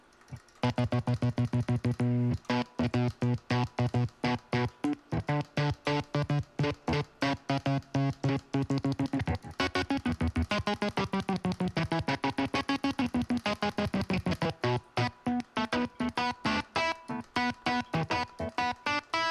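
A distorted electric guitar is played with a kill-switch effect via the pickup selector, chopping the sustained notes into a rapid stutter of on-off bursts that runs steadily and loudly throughout, with no talking.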